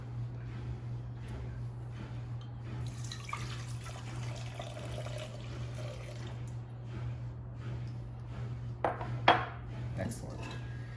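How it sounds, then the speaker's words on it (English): Water trickles and splashes into a bubble bath foam mixture in a bowl, quiet and close over a steady low hum, with clinks of dishes and a sharper knock near the end. "and now we add the water"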